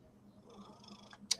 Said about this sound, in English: Wow, I can even hear her purring.